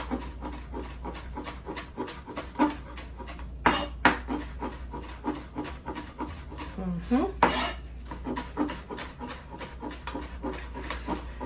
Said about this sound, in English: using our knife, we're gonna refine everything, chop it on up